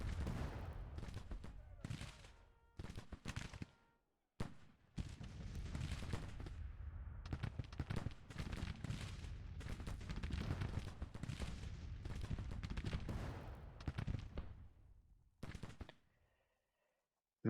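Civil War artillery in Grand Tactician firing in a long dense barrage of booms and crackling shots, loud and nearly continuous, with short gaps before falling silent near the end.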